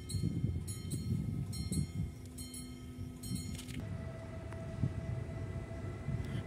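A train standing and rumbling at the via Beltrami level crossing in Novara, with a steady low mechanical hum, faint tonal whines and scattered clanks, heard from nearby outdoors.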